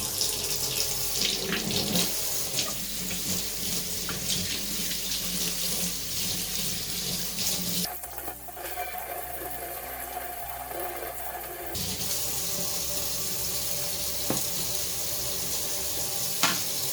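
Tap water runs steadily over Atari 400 computer parts as the remaining soap is rinsed off, a continuous close splashing and gurgling from a faucet into a sink, with no talking.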